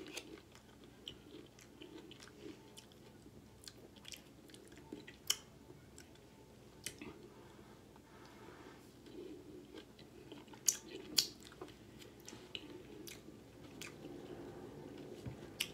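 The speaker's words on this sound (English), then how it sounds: "That pineapple is real sweet." Pineapple being chewed up close, soft wet squishing and occasional crisp bites repeating irregularly in a quiet room.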